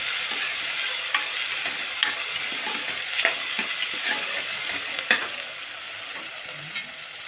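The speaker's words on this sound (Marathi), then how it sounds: "यात आपण टमाटा टाकून घेतलेला आहे तो पण चांगला परतून घेऊया" Tomato fries in masala for a spicy village-style mutton dish, giving a soft continuous sizzle with occasional light clicks of a spoon stirring, close but fairly quiet, with no talk.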